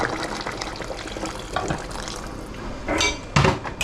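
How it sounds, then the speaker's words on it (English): Water pours into a soup pot of sweet potato for chorizo and cabbage soup, a close, continuous splashing fill that swells toward the end with a light clink of the pot, no voices. "Just going to add some more water."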